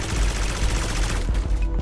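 Rapid gunfire in the mobile adventure game Auroria, a dense continuous burst of shots with booming low-end impacts filling the whole stretch at close range, no talking.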